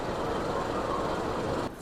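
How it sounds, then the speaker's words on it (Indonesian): Train noise around a CC 206 diesel locomotive (CC 206 13 34, Cirebon depot) being coupled to the Cakrabuana passenger train in Indonesia: a steady, loud broadband rumble with a high whine on top, easing slightly near the end. "Setelah melihat proses tersambungnya lokomotif ke rangkaian kereta api Cakrabuana"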